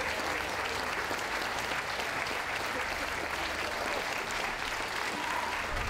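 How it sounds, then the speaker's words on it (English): An audience at a dog show applauds steadily and heavily for dogs leaving the ring. The clapping is dense and sustained, with faint voices mixed into it. "Come on, give them a round of applause"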